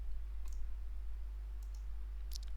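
A computer mouse clicks in PowerMill CAM software during a drilling toolpath setup, a few sharp faint clicks spaced apart over a steady low hum, with no talking.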